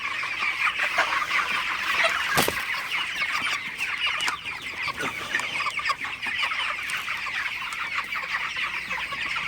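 Broiler chickens cluck and chatter continuously in a crowded flock, with overlapping calls and an occasional sharp squawk over a steady barn hum.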